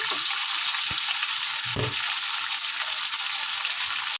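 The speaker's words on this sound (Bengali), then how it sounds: "এইভাবে সব মাছগুলো ভেজে নেবো।" Pieces of hilsa fish sizzle loudly in hot oil, a constant close crackle with a couple of brief clicks from a utensil and no talking.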